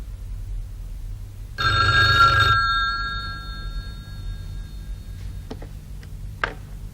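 A telephone bell rings once in a classic PTV drama scene, a loud burst of about a second followed by fainter lingering tones and a couple of soft clicks as the line settles.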